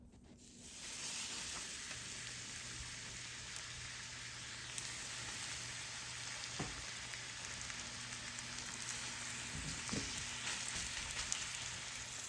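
Batter sizzles in a cast iron pan, a steady close frying hiss with faint crackles and a low background hum throughout, no talk.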